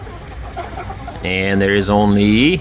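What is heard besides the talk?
rooster in chicken coop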